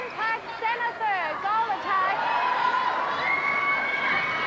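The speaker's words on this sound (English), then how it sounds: "there's great noise in here in Newcastle. A tremendous crowd." A large crowd cheers and shouts with high-pitched whoops at a netball match in Newcastle, a loud sustained roar filling the arena.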